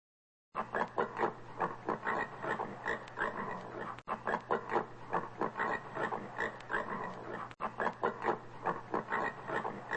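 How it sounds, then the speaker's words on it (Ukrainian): Domestic pigs grunt and oink in a steady run of short snorts, close and fairly loud, with two brief dropouts breaking the sequence. "Свині. Вони люблять копатись в землі, дуже розумні і дружні."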